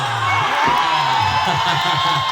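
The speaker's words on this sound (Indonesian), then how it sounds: "Tepuk tangan yang meriah" Festival crowd at a reak folk performance in Pamulihan cheering and whooping, a dense continuous roar of voices with scattered shouts, loud and close, filling the whole moment.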